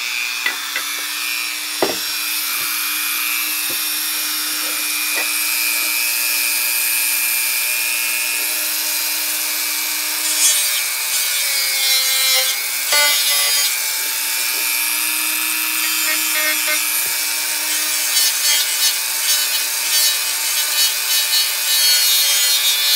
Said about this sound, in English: Now I'm just going to sand part of this paint off this stick I have right here.